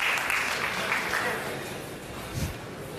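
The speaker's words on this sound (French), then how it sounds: "Attendez les applaudissements de Michel Van Campenot" A crowd applauds at a pétanque world championship final in a boulodrome, a dense burst of clapping that gradually thins and fades over a few seconds, with a voice murmuring underneath.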